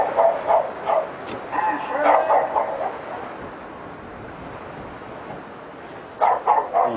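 A neighbour's dog upstairs barks in short, muffled bursts of yips, a cluster at the start and another near the end, with a quiet gap between.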